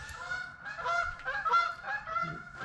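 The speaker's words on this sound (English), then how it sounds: "Chasing geese." Geese honking in a rapid, repeated series of nasal calls, fairly close and steady throughout, with no talking.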